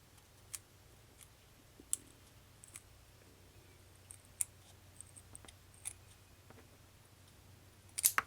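Scissors cutting a popsicle stick for a theatre model flat: sparse, quiet clicks and snips scattered over a low steady hum, with a brief cluster of sharper clicks right at the end.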